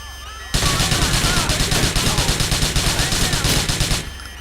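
Rapid automatic gunfire in a police station attack in GTA, a loud, dense, steady stream of shots that starts abruptly, runs for about three and a half seconds and then cuts off.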